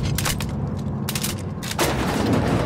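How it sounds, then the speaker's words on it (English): Enemy gunfire in the video game The Outer Worlds, with several sharp shots and bursts cracking in quick succession, loud and close, amid booming impacts. "They're probably all gonna shoot at us."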